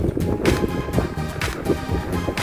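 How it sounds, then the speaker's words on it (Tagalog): Steady gusty wind rushes past the microphone during -18°C snowfall in Seoul, a constant broadband roar with soft buffeting swells throughout. "mahangin."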